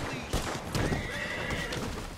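A horse in Red Dead Redemption 2 whinnies loudly while hooves clip-clop in quick steps beneath, over a steady background of game sound.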